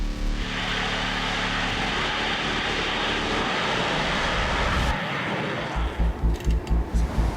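A Typhoon fighter jet roars steadily and loudly overhead, a dense continuous engine wash that holds for several seconds before cutting off into a few short rhythmic thumps.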